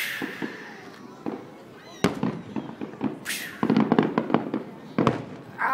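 Fourth of July fireworks and firecrackers go off outdoors in Pennsylvania: scattered sharp pops and crackles, a whistling rocket, then a denser burst of rapid bangs, some near and loud, others fainter, with brief voices in between.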